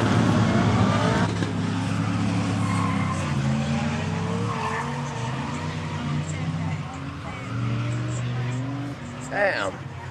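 Cars drifting at a Powercruise event, with long, loud tire squeals and skidding over roaring engines, while a voice talks under the noise.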